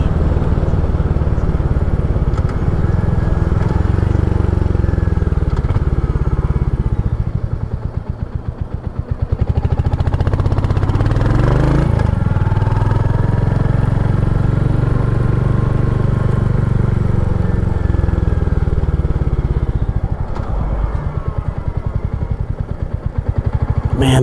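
A 2023 Royal Enfield Hunter 350 single-cylinder motorcycle engine thumps at a low idle, a loud, steady close-up rumble with slight dips and no talking.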